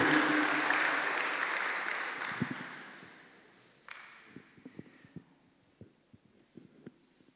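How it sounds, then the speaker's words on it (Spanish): Church congregation applauding for the Lord, a broad burst of clapping that fades over the first few seconds, followed by sparse scattered claps and low thumps. "¿Por qué no le das un aplauso al Señor por ese motivo?"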